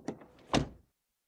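A single door of a 2024 Ford Kuga plug-in hybrid swings shut with a solid thunk after a short rustle, close by and brief, followed by silence.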